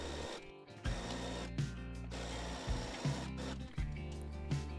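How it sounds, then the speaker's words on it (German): Domestic sewing machine stitching steadily around a curved seam on a pyjama blouse, a continuous motorized hum broken by brief pauses and restarts, close and alone. "verriegeln dort und nähen dann einmal um die runde Strecke bis zur anderen Ecke"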